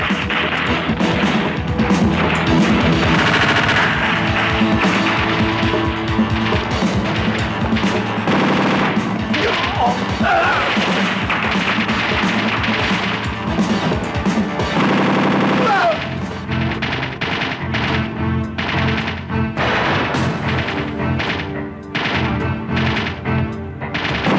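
A gun fired in a Filipino drama scene, with long runs of rapid loud shots and crashing impacts over a dense music score.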